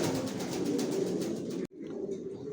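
Pigeons in a breeding loft coo close by in a continuous soft, throaty murmur. The sound cuts out abruptly and then resumes more faintly.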